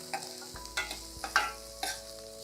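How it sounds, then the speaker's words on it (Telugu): Garlic and spring onions frying in a pan for veg Manchurian, a quiet sizzle broken by a few separate scrapes and taps of a spoon against the pan, with no voices. "స్ప్రింగ్ ఆనియన్స్ కూడా వేసేద్దాము. ఇవి కొంచెం వేపుకోవాలి అంతే మనం."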